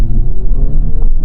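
A 2023 Honda Civic Type-R FL5 in individual mode on a bumpy road gives a brief, near gear-shift sound over a steady low engine rumble, with no talk.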